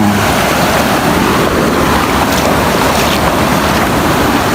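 Strong floodwater surges during a high tide in Yangon, a loud, continuous, close roar of rushing water with a wind-like hiss and no talk.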